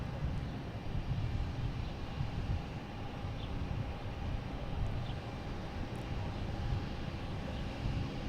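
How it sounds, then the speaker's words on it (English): Distant, low rumbling of a JetBlue Airbus A220 taking off from Boston Logan, a faint, steady engine drone that stays even throughout with no voices. "We have JetBlue taking off to Fort Myers, Florida."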